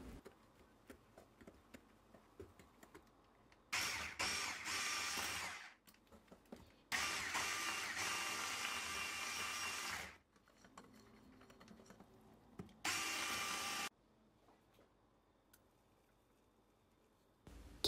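An electric mixer whirring through cake batter made with flour, baking powder and orange powder, running loudly in several bursts of a few seconds each, separated by quiet pauses, with no talk.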